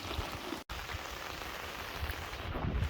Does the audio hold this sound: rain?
yes